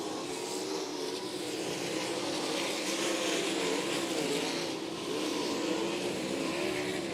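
Sprint cars race on a dirt oval at Crystal Motor Speedway in Michigan, a continuous distant engine roar that rises and falls gently as the pack circles the track.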